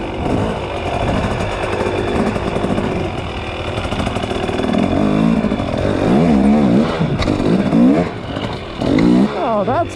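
A dirt motorcycle ridden on Dunlop EN91EX tyres with a steady, fairly loud engine drone that swells and revs in the second half, while a rider's voice talks over it.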